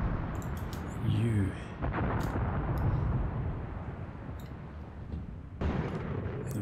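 Artillery gun and tank fire in Graviteam Tactics, a heavy boom followed by rumbling battle noise and further muffled blasts, with a voice talking over it.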